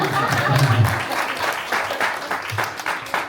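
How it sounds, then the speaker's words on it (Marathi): Guests at the opening of a Marathi school branch in Manteca, California clap together, a dense burst of applause that thins and fades while voices talk through it. "सगळ्यांनी कंजूसी न करता टाळ्या वाजवल्या तरी चालेल"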